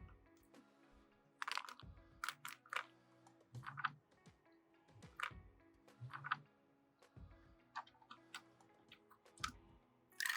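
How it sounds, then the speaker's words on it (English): Kumamoto oysters scrubbed by hand to clear debris, giving repeated short scraping and clicking bursts with knocks of shells in a quiet room, close and intermittent. "Scrub off any debris that have not been washed by the brine bath."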